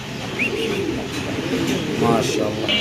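Pigeons at a market stall coo softly in low, repeated warbling calls, with a few brief chirps and background chatter from people nearby.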